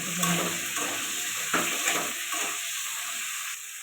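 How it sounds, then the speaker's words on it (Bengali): Quiet, steady sizzling of cauliflower frying in oil with turmeric and salt, with occasional light stirring clinks in a pan. "ফুলকপিটা ভাজা হয়ে গেছে এবার তুলে নেবো"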